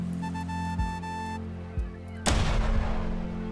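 Battleship shot firing in the roguelike Morse code game: a tone sequence, then two dull thuds and a sharp, loud blast that trails off in rumbling noise.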